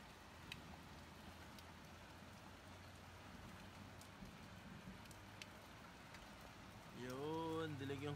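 Steady rain falls during a hailstorm in Al Dayer, Saudi Arabia, a constant patter throughout, with a voice speaking briefly near the end.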